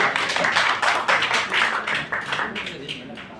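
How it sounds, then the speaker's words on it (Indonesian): An audience claps in quick, dense applause at a ska band show, the sound close and lively before it thins toward the end. "Beri tepuk tangan yang paling meriah untuk Mas Desto, teman-teman."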